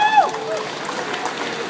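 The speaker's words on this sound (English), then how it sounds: "Big round of applause, please." Audience applause at a live robot combat event in a large exhibition hall, a broad wash of steady clapping that fills the space for nearly two seconds after a brief tone fades at the start.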